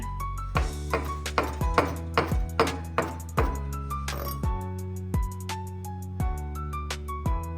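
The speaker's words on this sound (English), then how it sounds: "Now I have taken 5 gram chives and I am going to chop it." A knife chops fresh chives on a board in a quick series of close, crisp taps with a few brief pauses, each stroke ringing slightly against the surface, with no voice.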